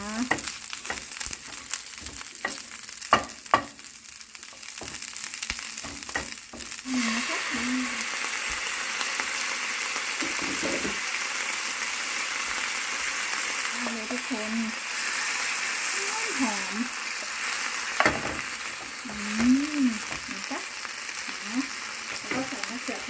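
Glass noodles with egg and shredded cabbage stir-fry in a pan, sizzling steadily throughout with scraping stirs. Someone talks intermittently over the cooking.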